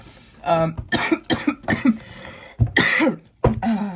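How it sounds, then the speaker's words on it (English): Several harsh throat clearings and coughs in quick bursts, close and loud, with a strained voiced rasp between them. "I did take a break to clear my throat here."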